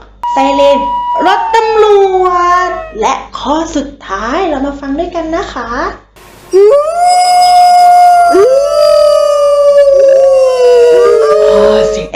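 A wolf howls in long, rising and falling wails, with several drawn-out calls overlapping loudly and close.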